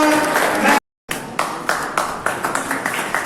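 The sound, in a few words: applause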